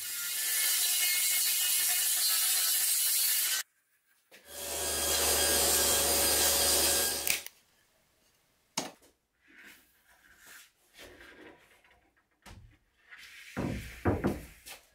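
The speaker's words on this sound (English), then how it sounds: "I'm going to cut a strip off the edge of the second sheet of plywood, except this time I'm going to do a freehand" A strip is sawn freehand off the edge of a plywood sheet, with two long, loud stretches of steady cutting separated by a short pause, then scattered thumps and clatter as the pieces are handled.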